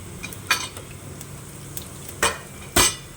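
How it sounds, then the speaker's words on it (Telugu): Tempering of urad dal, mustard seeds, cumin, chana dal and dried red chilies fries in oil with a soft, low sizzle, broken by three sharp clattering pops or stirring knocks close by. "తాలింపుకి ఏమేం కావాలో అవన్నీ వేసుకోండి ఫ్రెండ్స్"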